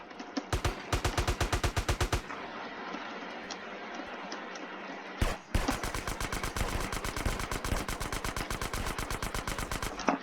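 Rapid automatic gunfire in a GTA video game, loud bursts of fast, evenly spaced shots, a short pause after about two seconds, then a long sustained volley with no talking.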